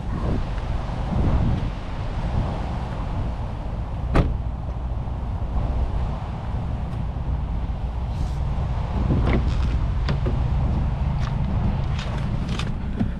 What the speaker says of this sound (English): Despite how windy it is